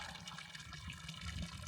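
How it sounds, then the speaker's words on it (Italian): Water runs and splashes steadily while a bottle is refilled at an outdoor source during a long bicycle trip through Turkish canyons. The flow is continuous and fairly close. "Pausetta, rifornimento acqua e facciamo l'altra metà."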